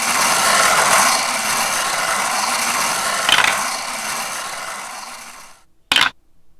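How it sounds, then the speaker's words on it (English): A spinning prize wheel whirs with a dense run of rapid clicks that gradually slows and fades, then a sharp final clack as it stops. "So let's spin the wheel and see what it lands on."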